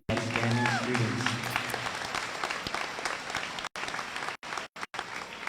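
Audience clapping for two students at an 8th grade promotion ceremony, a steady round of applause close by that runs throughout with a few brief dropouts near the end.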